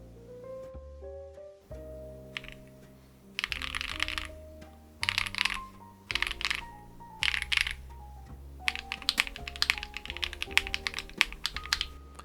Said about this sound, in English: I'll leave you with my awful typing.